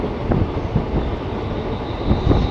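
An Ahmadpur–Katwa passenger train rolls along on a diesel single-line route, heard from inside as a steady loud rumble with faint rhythmic wheel knocks, no voices.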